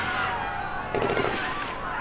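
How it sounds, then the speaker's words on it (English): A burst of gunfire rings out inside a hospital in the video game H1Z1, a short cluster of rapid pops breaking in midway over a quieter background hum. "Don, was that gunfire?"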